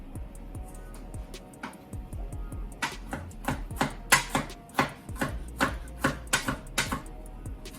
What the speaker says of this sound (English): Rough chop your shrimp.